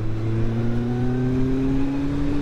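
A motorcycle nicknamed Wilma is ridden on the road, its engine a loud, close, continuous drone whose pitch climbs gradually as it accelerates.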